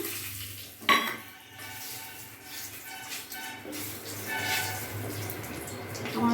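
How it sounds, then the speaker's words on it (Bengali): A metallic clank against a pan, then steady crackling sizzle of whole garam masala, dried red chillies and bay leaves hitting hot oil, with scraping and stirring sounds throughout. "এখানে গোটা গরম মশলা শুকনো লঙ্কা তেজপাতা ফোড়ন দিয়ে দিলাম"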